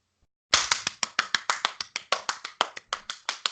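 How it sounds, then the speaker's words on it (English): A small group claps a round of applause on a podcast episode, with about fifteen sharp, distinct claps in a quick, even rhythm. The claps come close and clear after a brief silence. "A round of applause."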